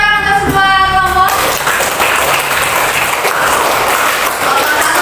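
A primary school classroom in Grobogan bursts into loud, dense clapping for all the student groups. A voice speaks briefly before the applause rolls on steadily and close by for several seconds.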